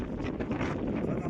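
Breeze buffets the microphone in a steady, loud, low rumble with gusty swells, and a voice speaks faintly underneath.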